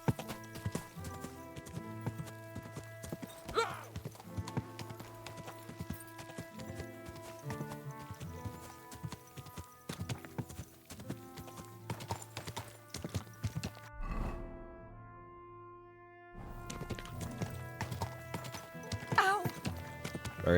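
Horse hooves clip-clop at a steady rhythm in a medieval Bohemian setting from the video game Kingdom Come: Deliverance II, layered under dense game music, with a short near-silent gap midway and a brief neigh-like burst.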